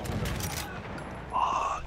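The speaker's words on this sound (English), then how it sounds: "something's shooting at me" A few gunshots from Battlefield 1 fire in a quick burst at the start, followed by a short metallic ringing tone as the shots fade.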